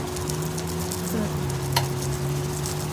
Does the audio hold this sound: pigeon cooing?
no